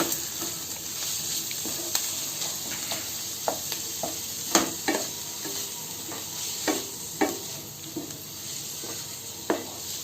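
Fenugreek greens sizzle steadily in a pan while a spoon scrapes and stirs at irregular intervals, loud and close, with no talking.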